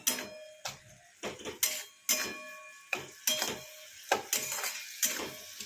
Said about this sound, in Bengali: এবার আমি ভালো করে মশলাটাকে কষিয়ে নেব।